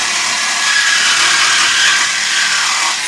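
A reciprocating saw fitted with a brand-new Diablo blade cuts through the steel exhaust pipe of a 2006 Duramax, a steady loud, harsh buzzing grind that holds continuously, close by, with no voices.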